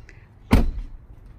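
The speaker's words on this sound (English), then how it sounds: "You can close the door." Door of a 2019 Ram Laramie pickup truck shut once, a single solid thunk at close range after a brief moment of quiet, then fading into faint background.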